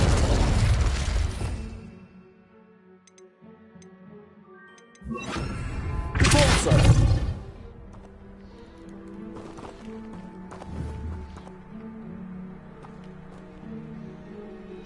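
Spell blasts and explosions in Hogwarts Legacy: two loud, sharp bursts, the second around the middle stronger and fuller, separated by a quieter stretch and followed by lower rumbling and faint ambient tones.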